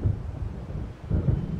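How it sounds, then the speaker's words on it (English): Low, rolling rumble of distant thunder from an approaching storm in the video game Alan Wake, swelling again near the end with no voices. "It seems there's a storm coming."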